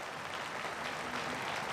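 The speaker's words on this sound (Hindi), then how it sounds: "दोनों हाथ उठा करके बजाइए संतों के लिए।" An audience at a temple consecration festival applauding for the saints, a steady, dense wash of clapping from a crowd, moderately loud and continuous with no voices over it.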